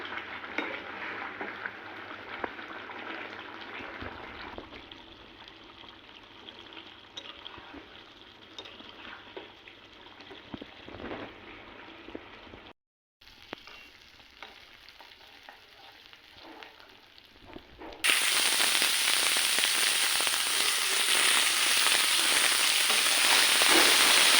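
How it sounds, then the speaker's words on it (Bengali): Broiler chicken curry with garam masala stirred and frying in a pan, a steady close sizzle with scraping stirs, dropping out briefly near the middle and then swelling into a much louder, hissing fry toward the end. "গরম গুঁড়া মশলা দিয়ে দিছি আমি দিয়ে গুঁড়া মশলা দিয়ে নাড়া দিয়ে নেড়ে নিচ্ছি"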